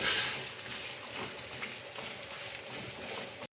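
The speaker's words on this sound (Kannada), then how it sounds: "ಇವಾಗ ಒಣಗಿರೋ ಮೆಣಸಿನ್ಕಾಯಿ ಒಂದು 10 ಎತ್ಕೊಂಡಿದ್ದೀನಿ, ಇವಾಗ ಹಾಕ್ತಾಯಿದ್ದೀನಿ. ಅದು ಚೆನ್ನಾಗಿ ಫ್ರೈ ಆಗಲಿ." About ten dried red chillies sizzle and crackle in hot oil, a steady hissing fry at moderate level that holds throughout and cuts off abruptly at the end.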